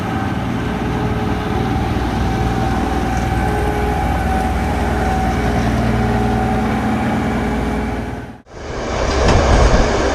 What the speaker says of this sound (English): Check out how far this locomotive can toss snow off the tracks.